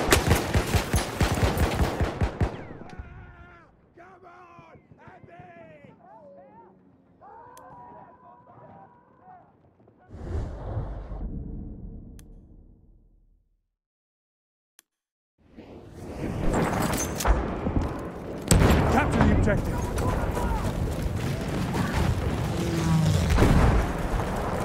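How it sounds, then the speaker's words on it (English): Battlefield 1 multiplayer battle with loud, rapid machine-gun bursts and explosions at the start and again through the final third; a quieter middle stretch carries talking voices. "Machine gun, one of theirs."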